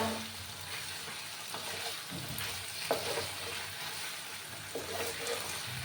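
Flat beans being stirred with mustard oil in a hot pan, a steady sizzle and frying hiss with occasional scraping clicks of the spoon, close and fairly loud.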